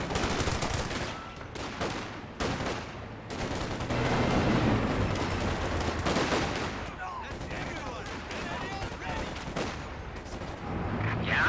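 Anti-tank guns and other weapons fire in a Company of Heroes 2 match, sounding as loud, continuous battle gunfire with sharp repeated shots and bursts over a busy mix.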